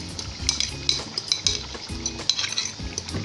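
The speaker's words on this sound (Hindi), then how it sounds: "थोड़ा सा इसे फेंट लेंगे और इसमें डाल देते हैं।" Yogurt is whisked and stirred into palak gosht with rapid utensil clicks against a metal pot, mixed with soft scraping and faint sizzling, and no voice.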